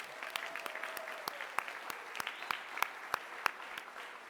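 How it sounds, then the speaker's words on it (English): Graduates applauding at a university commencement, faint crowd clapping with a regular, prominent series of close individual claps punctuating the spread-out wash. "give yourselves a round of applause for what a stunning accomplishment you've done"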